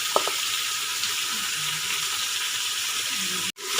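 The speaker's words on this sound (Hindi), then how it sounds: "अब हम इसमें गोश्त डालेंगे। और साथ ही हम लहसुन अदरक डाल देंगे।" Mutton going into a pan with garlic and ginger after golden onions, giving a loud, even, hissing sizzle that holds steady before cutting off abruptly near the end.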